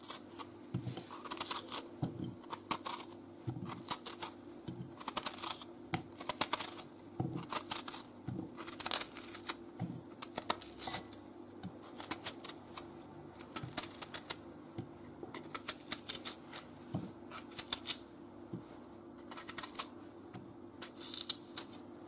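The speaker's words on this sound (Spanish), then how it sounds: "Ya hemos pelado todos los melocotones y ahora los cortamos y lo echamos en un recipiente de cristal." A knife cutting peeled peaches into pieces for wine-poached peaches, a long run of quick close taps and chops against a board, uneven in rhythm and quiet overall, with no talk.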